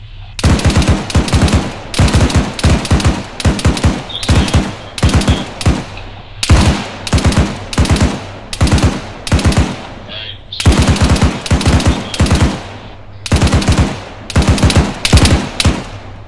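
Bursts of machine gun fire during an army exercise, loud and close, with rapid rounds coming in short, rhythmic volleys separated by brief pauses.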